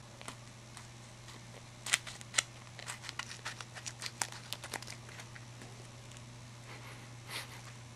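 Scissors cut open a plastic package of alligator jerky: crinkly plastic rustling and sharp snipping clicks, a handful of close, quiet crisp sounds scattered over a few seconds against a steady low hum.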